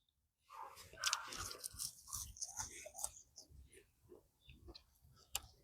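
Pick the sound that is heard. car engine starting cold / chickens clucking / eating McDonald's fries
eating McDonald's fries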